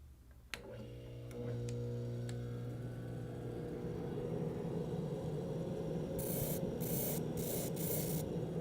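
A drum sander at 150 grit working a piece of wood intarsia, a steady loud motor hum and rushing abrasive hiss after a few clicks at the start, with bursts of harsher grinding toward the end, no talk.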